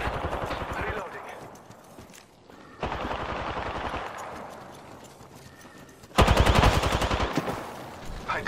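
Automatic gunfire in the game Apex Legends comes in loud rapid bursts that stop and start, with the last burst the loudest. Other game sounds and voices mix in.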